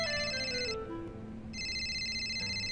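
A telephone rings in repeated electronic bursts with a short gap between them, steady and fairly loud over low background hum.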